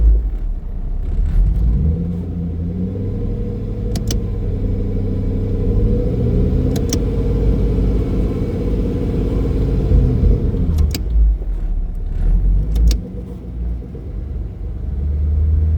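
A 1UZ V8-powered Datsun 280Z with an eight-speed automatic accelerates through its gears, a steady loud engine rumble rising smoothly with barely noticeable shifts, then easing off toward the end.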